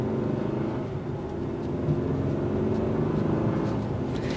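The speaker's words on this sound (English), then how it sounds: "you will hear the road noise a little bit more so because these are all-terrain tires" Road noise from all-terrain tires on a 2024 Hyundai Santa Fe XRT, a constant broad rumbling hiss heard from inside the cabin, steady and moderately loud throughout.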